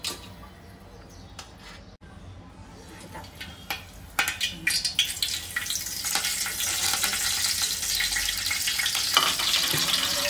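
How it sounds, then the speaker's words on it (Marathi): Oil heating in a pan for a Malvani fish curry, a few clanks and pops giving way to a steady, growing sizzle close by. "मी त्याच्यामध्ये तेल टाकेल आधी."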